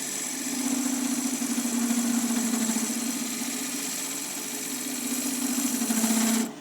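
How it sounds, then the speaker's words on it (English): A pressed sheet-metal belt cover vibrating on a running wood lathe gives a steady, loud, buzzing hum that holds for several seconds and then cuts off abruptly, with no talking. "that belt cover is a piece of sheet metal that is pressed, and that's what's vibrating"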